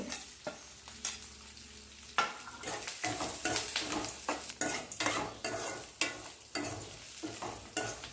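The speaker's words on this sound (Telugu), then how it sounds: "కరివేపాకు కూడా వేసుకొని కలుపుకోవాలి." Curry leaves being stirred into frying onions in a pan while cooking carrot rice: a steady sizzle with repeated scraping and clinking strokes of a spoon against the pan, close and fairly loud, with no one speaking.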